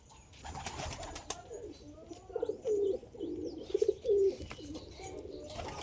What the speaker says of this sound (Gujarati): कबूतर आ गया है।